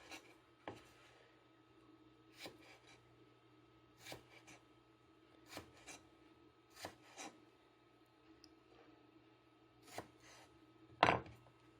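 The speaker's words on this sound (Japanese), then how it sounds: "3センチぐらいで、斜めにちょっとカットします。" A knife slices butterbur stalks diagonally into pieces about 3 cm long on a cutting board, ready for stir-fried kinpira: a quiet, even series of soft crisp cuts spaced a second or so apart, with no talking.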